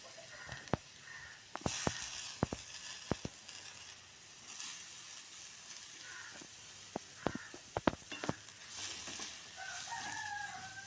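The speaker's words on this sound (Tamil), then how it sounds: "நான் கேரட் பீட்ரூட்டையும் ஒரே முறையில் போட்டுருந்தேன். போட்டு இதை நல்லா பொரிய விட்டு அப்படியே அதே மறக்கி எடுத்துருந்தேன்." Carrot and beetroot fry together in hot oil in a pan for a Sri Lankan lunch, giving a steady close sizzle with scattered sharp pops and crackles, while a rooster crows in the background.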